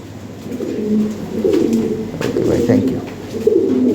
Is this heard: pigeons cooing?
yes